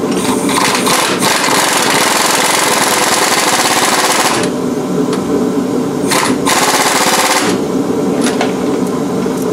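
Impact wrench spinning a 15 mm bolt on the front suspension of a 2007–2021 Chevrolet Silverado during a leveling kit install, a loud continuous rattling hammer run with brief pauses partway through.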